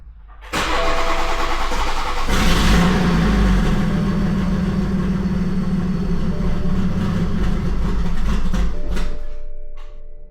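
A BMW 340i with an MHD Plus tune cranks and fires up, a loud surge into a revving start that settles into a steady, throaty idle before cutting off near the end.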